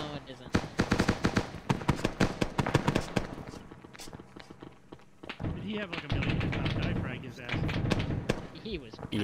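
Rapid bursts of automatic gunfire in the Arma 3 military video game, close and loud, come in dense volleys with a short lull midway, while players talk over radio.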